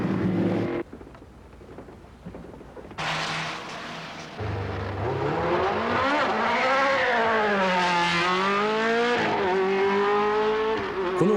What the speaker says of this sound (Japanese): Niki's driving a pre-turbo car, about 250 horsepower down on the latest ones.